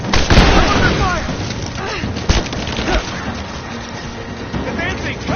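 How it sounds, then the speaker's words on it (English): Gunfire and a grenade blast from Rise of the Tomb Raider crackle and thump in a busy, loud combat mix, punctuated by sharp bangs, while shouted voices call out over the fighting. "Taking fire! I'm gonna kill you! Grenade out! I'm under fire!"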